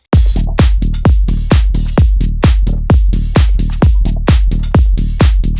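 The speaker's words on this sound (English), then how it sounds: "Now we're going to create the classic minimal bass pattern that sounds like this" A classic minimal house bass pattern on synth bass: punchy, rhythmic notes repeating steadily in a tight groove, loud and upfront with nothing else around it.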